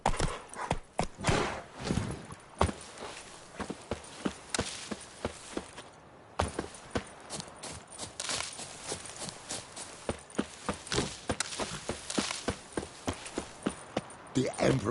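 A horse trots along in The Witcher 3, its hooves clip-clopping in a quick, steady rhythm close by, with brief game voices mixed in.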